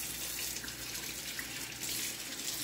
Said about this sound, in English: I'm adding in 2 to 3 tablespoons of water.